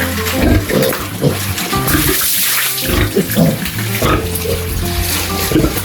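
Pigs wallowing in mud grunt and snort in a steady, busy stream, with wet sloshing and splashing close by and no talking over them.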